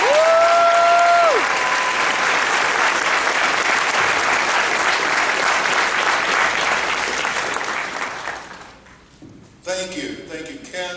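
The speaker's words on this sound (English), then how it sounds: "everyone give a big round of applause to Mr." A convention panel audience at DragonCon 2015 applauds loudly and steadily for about eight seconds, dense close clapping that fades out near the end, followed by a brief burst of voices and a microphone-like sound.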